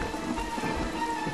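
Steady storm rain in Friday the 13th: The Game, a dense, continuous patter of drops falling on surfaces, loud and even with no voices over it.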